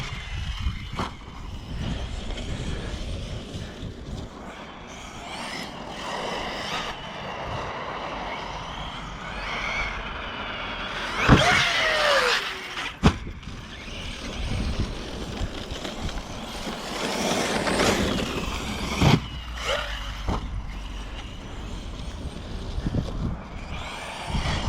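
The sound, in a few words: Traxxas Sledge RC car driving and flipping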